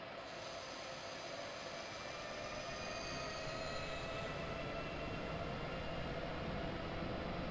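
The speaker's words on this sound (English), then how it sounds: "Congratulations, you are driving the locomotive." A BR189 electric locomotive runs under power in Train Simulator 2016, giving a continuous steady rumble with a faint whine that slowly shifts in pitch.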